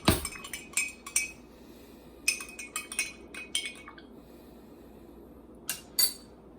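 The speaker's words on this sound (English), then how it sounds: "Then give it a little stir." A spoon clinks against a glass while stirring a hot toddy, in quick bursts of light tinkling taps, pausing between rounds of stirring, close and fairly crisp.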